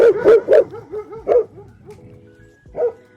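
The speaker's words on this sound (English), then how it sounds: "Damn dogs." Dogs bark in a rapid burst outdoors in a yard, several sharp woofs close together, then a single bark after a short pause.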